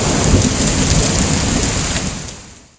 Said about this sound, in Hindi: एक दिन गांव में तेज तूफान आया